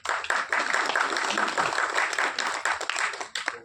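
A crowd at a press event breaks into sustained applause, dense overlapping claps carrying steadily at moderate loudness for several seconds with no pause.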